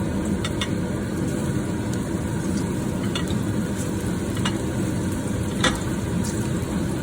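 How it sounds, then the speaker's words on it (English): Plantain bananas shallow frying in hot oil, a steady close crackling sizzle with a few sharper pops scattered throughout, no voices. "It's a shallow fry, it's not a deep fry."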